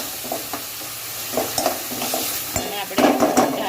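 A spoon mixes chhole chickpea masala with salt in a hot pan. Gentle scraping and stirring sound close up over a low, steady sizzle, and the strokes grow louder near the end.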